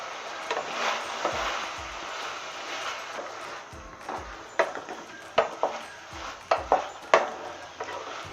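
Fried paneer manchurian is stirred in a pan: a soft sizzle under sharp, irregular clinks and scrapes of a utensil against the pan, growing more frequent toward the end.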